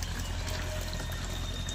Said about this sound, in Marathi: पाट्यात पाणी लावले